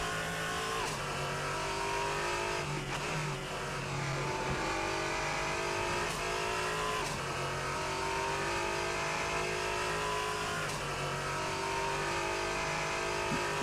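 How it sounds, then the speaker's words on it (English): Race car engines roar steadily in Assetto Corsa during a Low Fuel Motorsports online race, loud and continuous, with repeated gear shifts and revs rising and falling throughout, and no talk. "Yeah, cars go vroom."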